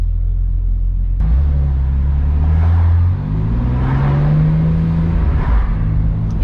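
A BMW E46 M3 with an SMG gearbox in automatic mode pulls away in traffic, its engine droning loudly and rising in pitch through a brief gear change, close and steady with no talk.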